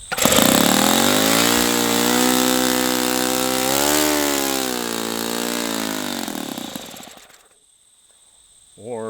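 An OS FS-120 Surpass four-stroke model airplane engine runs on a bench with a loud, steady buzzing drone that dips and rises in pitch, then cuts out abruptly before a brief restart.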